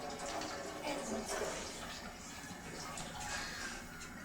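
Water poured from a cup into a can, a steady, close splashing and trickling that runs for several seconds without pause.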